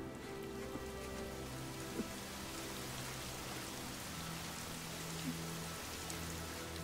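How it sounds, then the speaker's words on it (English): Torrential rain pours down in Fire Emblem Three Houses, a heavy continuous wash of drops with soft low tones underneath, quiet and steady with no voices. "Just immediate torrential downpour."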